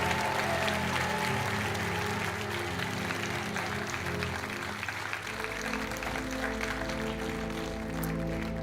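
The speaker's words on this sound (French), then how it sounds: "on vous applaudit très fort" Studio audience applauding on the French game show Money Drop, dense sustained clapping at moderate level that shifts near the middle as a low musical tone enters underneath, with no speech over it.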